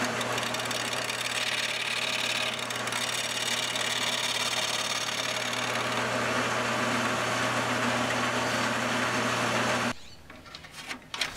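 A small lathe gouge is ground on a Shopsmith sharpening jig, giving a steady motor hum with continuous gritty grinding that stops abruptly near the end, leaving a quieter tail.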